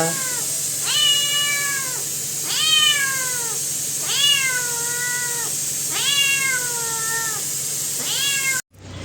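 A cat meows insistently, four or five long drawn-out calls at regular intervals, close and clear over a quiet background hum.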